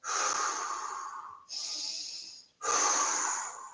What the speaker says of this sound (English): Couple of deep breaths.